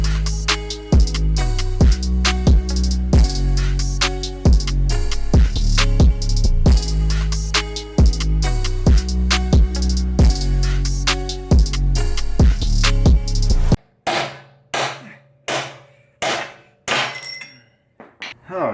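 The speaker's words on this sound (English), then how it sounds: "to get the stock bushings out. And to do that, we are going to use the handy dandy Sawzall." A Sawzall reciprocating saw cuts out the stock subframe bushings on a Nissan 350Z/370Z/G35, a loud, fast rhythmic rasping of repeated strokes. It gives way near the end to several separate sharp bursts with short pauses between.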